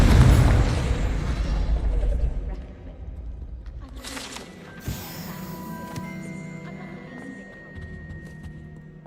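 Confringo blasting spell exploding in Hogwarts Legacy: a heavy, rumbling blast that fills the opening seconds, then fades into a lower roar with a small pop and faint game tones trailing after.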